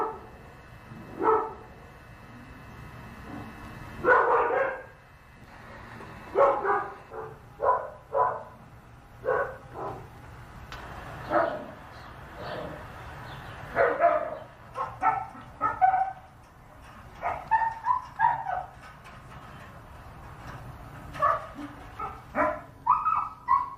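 Dogs barking in a recorded clip played back, giving repeated sharp barks and yips in irregular bursts, some with whimpers, fairly close and loud with nobody talking over them.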